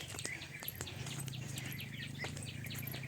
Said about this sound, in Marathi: हे पा पक्ष्यांचा इतका चिवचिवाट आहे